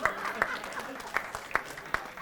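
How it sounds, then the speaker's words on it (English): A scattered round of applause from an audience at a First National Gold Coast evening event, a handful of distinct claps standing out over a low background murmur of voices. "If you can just give everybody a round of applause for First National for putting the night on."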